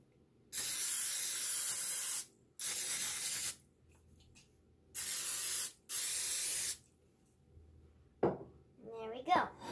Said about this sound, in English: We're going to spread it down with some cooking oil.